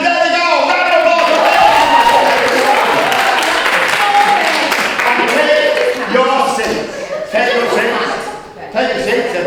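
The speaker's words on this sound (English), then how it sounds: "Round of applause." Audience applause at a comedic Macbeth stage show, a dense, loud round of clapping from a nearby crowd, with a voice talking over it as it continues and gradually trails off.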